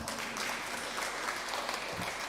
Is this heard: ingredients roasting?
no